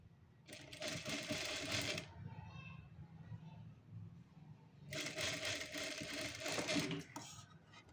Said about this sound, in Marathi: त्याला ना पट्टीला वरून दाबटीप मारून घ्या अशी व्यवस्थित.